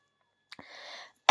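A woman gives a short cough-like burst, a brief vocal rasp, then a louder sharp sound at the end, close to the microphone with no talk.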